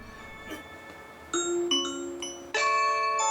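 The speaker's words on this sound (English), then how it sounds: "someone rings the doorbell" A clear electronic Blink video doorbell chime rings out, a few bright melodic tones in sequence, close and alone against a faint background hiss.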